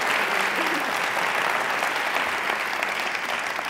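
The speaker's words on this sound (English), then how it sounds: "we all owe Allie a round of applause" An audience gives Allie a full round of applause, dense and sustained clapping at steady strength throughout, with no talking audible over it.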